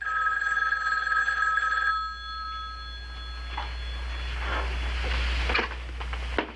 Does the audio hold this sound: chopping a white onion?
no